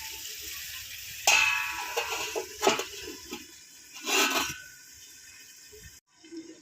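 Ridge gourd being stirred in a pan for a rohu fish curry, with soft sizzling scrapes in short bursts, then quieter frying that cuts off as a lid goes on near the end.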